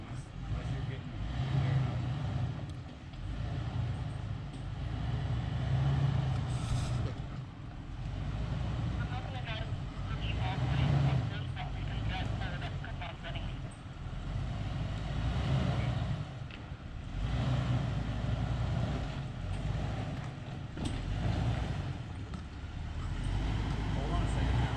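A 4x4 off-road vehicle with a rear locker idles and crawls through an obstacle, its low engine rumble steady and close throughout, with people talking over it.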